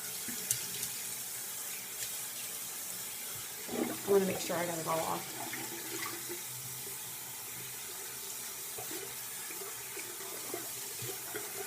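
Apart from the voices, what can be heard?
splashing tap water to rinse face at sink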